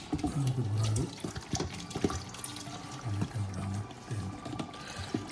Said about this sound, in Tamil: தண்ணி விடுவோம்.